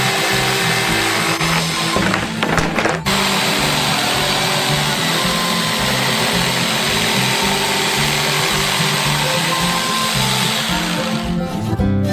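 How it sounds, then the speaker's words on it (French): An electric jigsaw cuts out a large Bounty bar shape, giving a steady, loud motor whine with a rough buzzing cut that runs nearly unbroken throughout, with a brief change in tone early on. "Il reste à la découper avec une scie sauteuse électrique."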